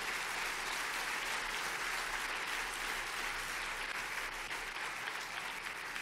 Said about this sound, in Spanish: ¿Cuánto le pueden dar un aplauso a Dios?